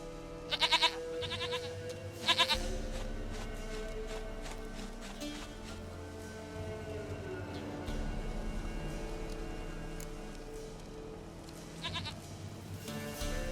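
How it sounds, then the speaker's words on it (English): A goat in The Witcher 3: Wild Hunt bleats in a couple of short, loud bursts near the start, with another call later, over a steady low game ambience and music bed. "Goat of mine, dearest, sweetest goat."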